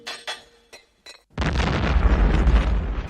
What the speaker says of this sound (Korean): 건물을 통째로 날려버리는 폭탄